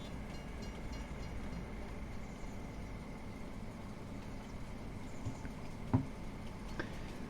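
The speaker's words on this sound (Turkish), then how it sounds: "Trenimiz hızlıca gitmekte." A train in the Farming Simulator video game rolls along steadily, a constant low rumbling drone with faint rattling and one brief clank near the end, no talk over it.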